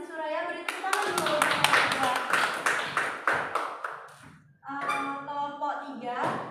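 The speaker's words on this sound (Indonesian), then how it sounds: "Beri tepuk tangan dulu." Classroom applause from students during a chemistry lesson, a burst of fairly close hand claps running several seconds with voices talking over it, fading out and then a teacher speaking.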